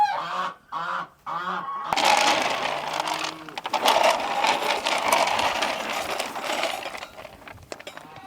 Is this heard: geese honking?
yes